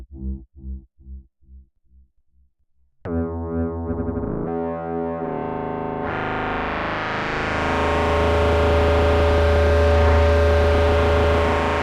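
Cre8audio East Beast and West Pest synthesizers producing harsh, destructive tones: a pulsing low plucked pattern fades out, then a gritty distorted drone kicks in and swells into a dense, loud, buzzing wall of sound.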